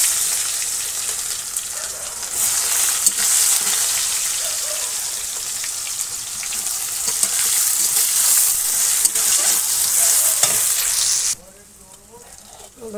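Onions dropped into hot oil in a pan over a wood fire in a village kitchen give a loud, steady hissing sizzle that runs for several seconds, then drops off abruptly near the end.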